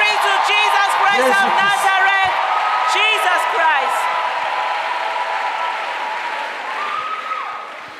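A church congregation at a pastor's gathering bursts into cheering and applause, with shouts, whoops and loud voices over steady clapping that gradually subsides.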